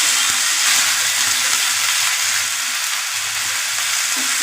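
Fish frying in oil on a flat pan, a loud, dense, hissing sizzle that holds steady throughout, close up with a faint low hum underneath and no speech.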